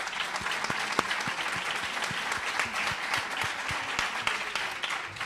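Steady applause from a lecture audience, a dense wash of many hands clapping with distinct sharp claps standing out, continuing evenly throughout with no voice over it.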